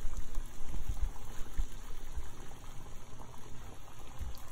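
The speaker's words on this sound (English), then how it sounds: "I put some salt and water in a pot, and I brought it up to a boil" Salted water boils in a pot on a stove with a continuous low, soft bubbling and churning, close by and steady, with no voices.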